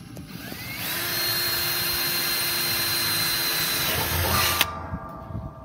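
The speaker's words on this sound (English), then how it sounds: "So we're going to drill a hole to put the thermometer in" A power drill bores a hole in an ugly drum smoker for a thermometer, a steady loud whine that holds for several seconds, then stops abruptly, followed by a few small knocks.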